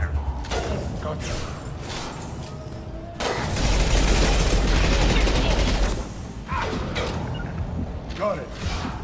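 Dense gunfire and mechanical clatter fill a Mass Effect 2 battle, with a long loud sustained barrage in the middle and steady combat noise on either side of it.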